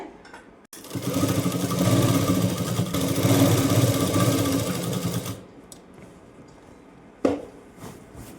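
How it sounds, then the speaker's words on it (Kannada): A sewing machine stitches a full round along the hem of a saree petticoat, running as a steady, close whirring drone for about four and a half seconds before stopping, followed by a few light clicks and handling noises. "ಒಂದು ರೌಂಡ್ ಫುಲ್ಲು ನಾನು ಸ್ಟಿಚ್ ಮಾಡಿಕೊಂಡೆ"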